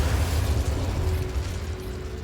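A fire spell cast in Hogwarts Legacy: a low, rumbling burst of flame that roars steadily and gradually fades over a couple of seconds, with no voices.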